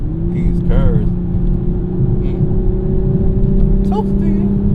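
A Toyota GR Supra cruises along a curvy, bumpy road, its engine holding a steady, close droning hum from inside the cabin while someone talks over it throughout.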